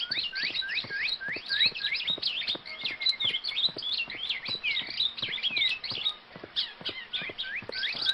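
Rapid, high chirps and tweets from a small bird in a cartoon story set on a farm field, repeating nearly continuously in lively bursts, close and clear with no talk.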